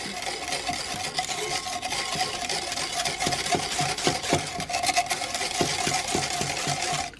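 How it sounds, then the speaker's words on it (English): Egg yolk being whisked into melted chocolate in a bowl, a close, steady scraping and rasping with quick rhythmic strokes and no voices. "And then just whisk the yolk into the chocolate."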